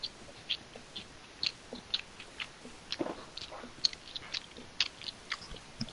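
A person eats a sub sandwich, close, quiet chewing and crunching in irregular small bites over six seconds, with faint clicks between them and no talk.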